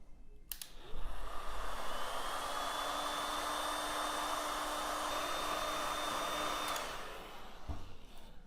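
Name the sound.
heat gun blowing hot air on heat shrink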